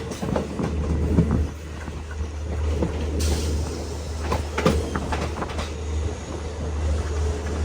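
A train pulls into Budgam station in Kashmir, its wheels clattering and squealing over the rails in a steady rumble with rhythmic clicks, loud and close, with no voices.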